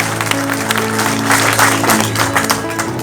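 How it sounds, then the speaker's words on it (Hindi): Audience applause fills the hall at the Manav Ratan Awards ceremony in New Delhi, a steady, dense wash of clapping that holds at even loudness throughout, with a faint tonal hum underneath. "प्लीज मुझे एक बात तालियां चाहिए आप लोगों से"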